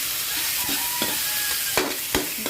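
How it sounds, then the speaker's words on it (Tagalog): Tomato and onion frying in oil in a pan, stirred with a utensil: steady sizzle with several sharp scraping knocks against the pan, close and clear, no talk. "Haluin natin ang kamatis at sibuyas."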